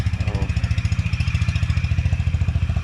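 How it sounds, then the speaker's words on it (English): Honda CB 350 motorcycle engine idling close by, a steady deep rhythmic thump-thump pulse with even mechanical clatter throughout, heard alone. "So I'm taking out my bike after a long time."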